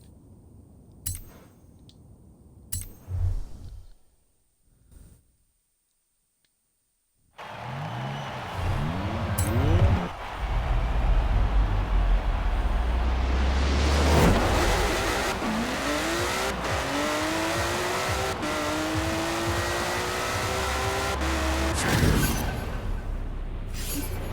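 Emory Porsche 356 RSR from Forza Horizon 4 revving hard and accelerating, with rising gear sweeps and tire squeal. A few quiet seconds fall before it launches into loud, sustained engine roar that climbs through the gears.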